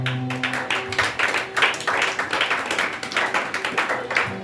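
A church congregation claps in quick, steady rhythm to praise the Lord, close and fairly loud over sustained background music, with no cheering voices standing out.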